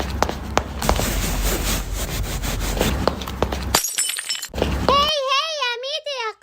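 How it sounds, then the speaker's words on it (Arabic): In a cartoon, a glass cup breaks: a rapid run of sharp cracking and shattering clatter, then a short pause, and a voice speaks at the end. "شلون تكسر الكاس؟"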